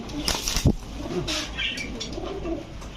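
Large pigeons in a pigeon shop, including Teddy, Damascene and Budapest breeds, give soft, throaty coos close by, with a few rustles and faint background noise.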